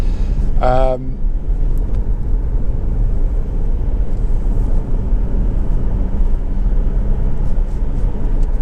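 Steady, loud road rumble from a Honda CR-V 2.2 i-DTEC 4wd diesel SE with about 50,000 miles, driven with air conditioning and heater running; a brief voice sounds near the start over the continuous engine and road noise.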